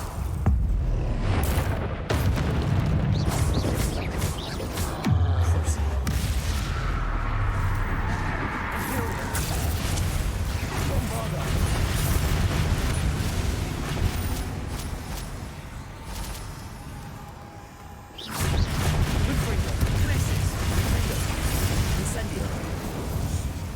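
Spell blasts and crackling magical impacts from Hogwarts Legacy combat against a troll, a dense, loud run of booming bursts layered over game music and effects, with brief gaps and a renewed surge near the end; voices call out in between.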